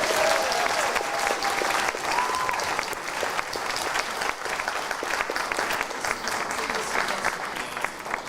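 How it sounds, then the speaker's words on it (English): An audience at a learning disabilities and autism leaders' awards ceremony claps loudly and steadily, a dense wash of hands that lasts the whole stretch without a pause. "give a big well done clap"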